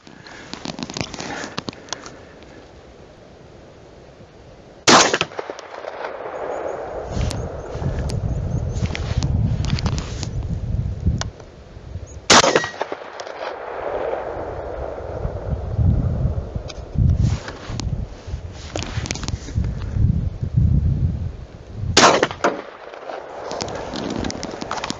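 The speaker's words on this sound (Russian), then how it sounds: "стреляю с рук." Three loud, sharp shotgun blasts from hand-loaded slugs fired offhand through a Paradox choke, spaced several seconds apart, each followed by shuffling and handling noise nearby.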